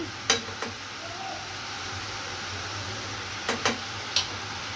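Chili powder and turmeric powder stirred into hot oil while cooking fish, a low steady sizzle with a few sharp spatula scrapes in two small clusters, close and unaccompanied by talk.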